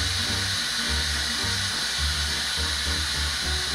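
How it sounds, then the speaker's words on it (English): An Instant Pot pressure cooker vents steam in a steady, loud, continuous hiss that holds unbroken throughout, with a faint low rumble underneath. "It's gonna spout off steam"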